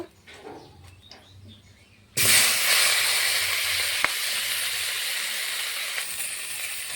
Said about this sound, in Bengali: এখানে দুটো মাথা আছে, দুটো মাথা ভেজে নেব।